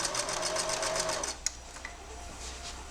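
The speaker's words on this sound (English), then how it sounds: "Always remember a little lock stitch." Sewing machine running steadily as it lock-stitches a pillowcase, a close rapid mechanical whir lasting about a second and a half before stopping, followed by a quiet room with a faint click.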